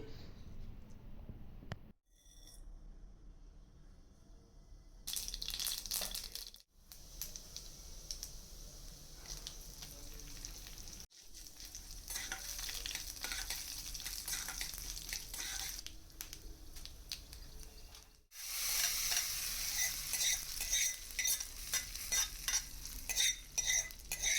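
Kootu with onion and moong dal frying and being stirred in a pan, a steady close sizzle with scraping spoon strokes, louder bursts near the end, and no talk.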